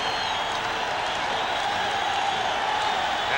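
Basketball arena crowd at an NBA Finals game cheering and applauding, a dense, steady wash of clapping and roaring throughout.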